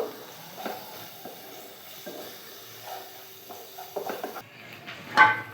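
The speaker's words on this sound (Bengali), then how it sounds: "এরপর এখানে আমি দিয়ে দেব লঙ্কার গুঁড়ো আর হলুদ গুঁড়ো, একটু নাড়াচাড়া করব" Chili and turmeric powder stirred into a pan with puti fish, quiet scraping and clinking of a utensil against the metal pan, soft and intermittent, ending in a sharper clatter.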